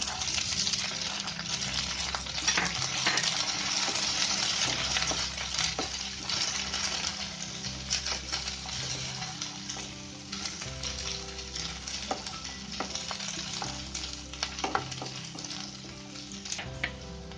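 Peas sizzle as they fry with lightly browned onions in a pan for poha, a steady loud crackling hiss with occasional clinks of utensils, no talking.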